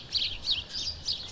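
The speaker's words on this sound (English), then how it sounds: "birds gonna hit me in the head" Birds chirp outdoors by a garage where a 1974 AMC Javelin is being worked on, with repeated bright tweets in an uneven rhythm over a faint low rumble, no talking.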